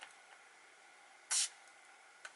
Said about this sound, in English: I would give one full spray just to the nose